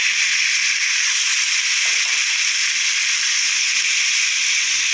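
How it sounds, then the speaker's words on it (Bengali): Marinated boal fish hitting hot oil in a pan gives a steady, loud hiss of sizzling that holds evenly throughout, with no one talking. "এই সমস্ত মাখা মাছটা কড়ার মধ্যে দিয়ে দিচ্ছি।"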